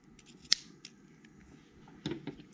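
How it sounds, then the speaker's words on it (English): Crisp snips of scissors cutting yarn: one sharp cut near the start, then a quick cluster of smaller snips and rustles, all close and fairly quiet. "Then snip that yarn"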